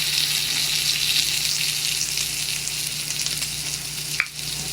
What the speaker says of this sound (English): I love making bacon